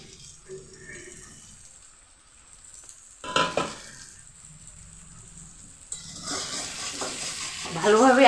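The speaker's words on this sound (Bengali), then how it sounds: "ঢাকা তুলে নিচ্ছি, নিয়ে আর একটু কষিয়ে নিচ্ছি।" Fish roe with potato and eggplant cooks on low heat, quiet at first with a brief clatter, then a close, rising sizzle and stirring scrapes swell loudly over the final seconds.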